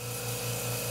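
A Kobalt 26-gallon, 1.8-horsepower air compressor runs while filling up in a shop, a loud, steady motor drone with a strong low hum and constant mechanical rattle, no pauses.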